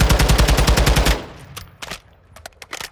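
Rapid automatic assault rifle fire in Call of Duty: Modern Warfare II, a loud close burst of about fifteen evenly spaced shots over a second, then scattered clicks and softer handling sounds.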